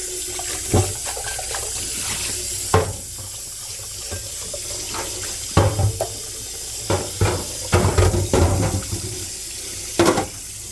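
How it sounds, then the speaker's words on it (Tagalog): Tap water runs steadily with a broad hiss, punctuated by several sharp clinks and knocks of items in a sink. "Tapos, babada natin ng tubig."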